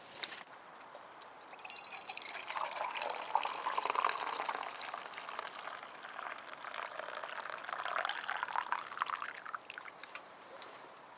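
Water is poured to make a strong pot of tea inside a hot tent during a winter storm: a steady, soft, hissing trickle with faint drips runs for about ten seconds, quiet and close, with no talking.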